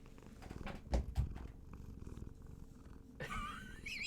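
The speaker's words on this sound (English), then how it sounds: "Can you hear it purring?" A cat purrs close to the microphone, a steady low rumbling pulse under room noise, with a couple of soft thumps and a brief higher chirp near the end.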